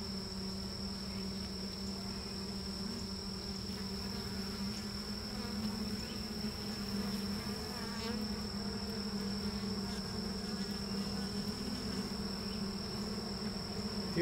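Honey bees swarm at an open horizontal hive, their buzzing a dense, steady hum with a high whine layered above it, moderately quiet and continuous, with no voices.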